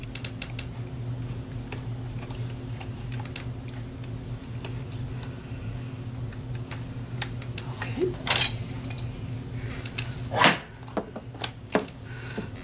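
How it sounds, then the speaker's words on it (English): Weights on a drop sleeves setup slip and clink, heard as scattered faint ticks and then a few sharp, brief metallic clinks near the end over a low steady hum. "That noise was just one of my weights slipping."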